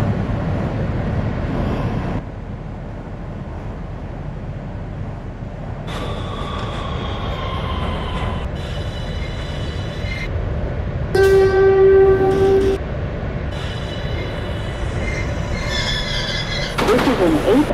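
A simulated NYC subway R143 L train in the Openbve game rumbles steadily along the rails, with high metallic squeals and tonal chimes sounding over the running noise.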